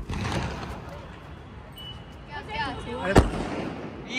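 Sky shot fireworks burst overhead at an outdoor celebration, with one sharp loud crack near the end after rising whistles and crackles, while people talk excitedly in the background.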